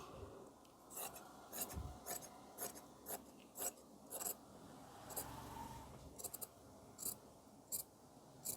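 Scissors snip through blouse fabric at the back neck during tailoring, about a dozen short crisp cuts in an irregular rhythm, close and moderately loud with a soft rasp between strokes and no talking.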